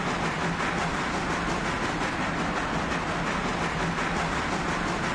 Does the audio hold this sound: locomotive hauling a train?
yes